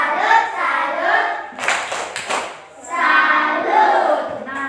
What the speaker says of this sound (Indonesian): tepuk tangan atau tepuk salut untuk Andika